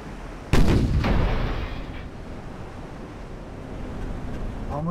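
A battleship's main guns fire in the naval video game Ultimate Admiral Dreadnoughts, one heavy booming salvo that rumbles loudly and then fades into a steady wash of sea and wind.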